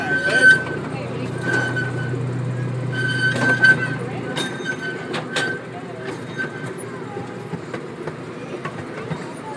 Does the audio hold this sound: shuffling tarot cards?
no